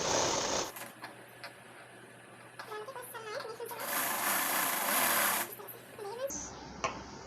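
A sewing machine stitches along the edges of a blouse with a steady mechanical whir running under a voice as she talks through the work.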